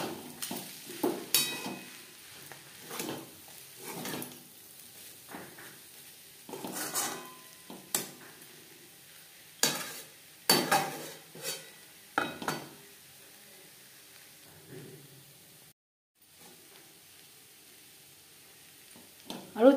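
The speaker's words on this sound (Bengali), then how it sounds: "আরও 3-4 মিনিট রান্না করে নেব।" Beetroot and carrot with garam masala stir-fry in a pan, heard as soft sizzling and intermittent scraping stirs in irregular bursts, fairly faint and close, with a brief silent gap.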